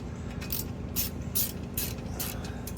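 Bolt being tightened on a Surly front rack fitted with a Surly TV Tray on a Surly Bridge Club bike, giving several quick ratcheting clicks in short bursts over a steady background hum, close by with no talking.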